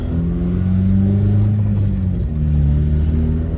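Acura RSX with a swapped engine accelerating on neighborhood streets, a loud steady low engine drone and rumble that climbs slightly then dips as it shifts, close and continuous with no talking.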